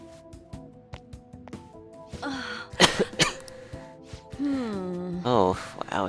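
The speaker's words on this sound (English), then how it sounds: "Oh, wow, it's so dusty if my cough is already this bad." In a dusty room in the video game Persona 5, a character gives several harsh, close coughs and throat clears among game sounds, while a voice speaks around them.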